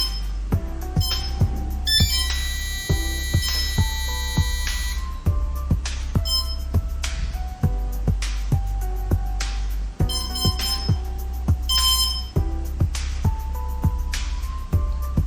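A loud, close series of short electronic beeps and tones from a drone powering up on battery without propellers, in a quick rhythmic sequence, with a few longer melodic notes, and no talking.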